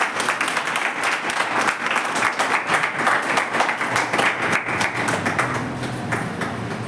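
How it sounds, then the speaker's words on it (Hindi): Audience claps steadily at a gathering honouring Babasaheb Bhimrao Ambedkar, near a statue where people garland him; dense, sustained applause from a crowd, loud and continuous throughout with slight thinning toward the end. "तालियां बजाते हैं।"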